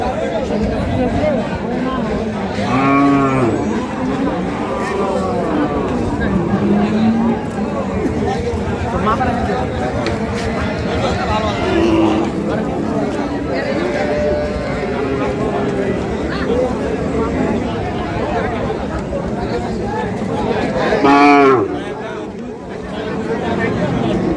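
Cattle at a busy rural livestock market selling Sahiwal, Sindhi and local-breed dairy cows and calves let out a couple of deep, drawn-out moos over steady crowd chatter and nearby talking.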